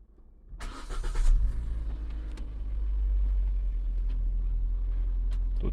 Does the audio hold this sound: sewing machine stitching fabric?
no